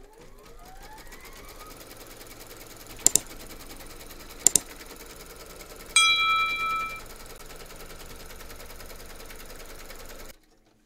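An embroidery machine stitches fabric in the hoop, a steady rapid whirr close by, broken by two sharp clicks, then a brief higher buzz before the motor winds down and stops.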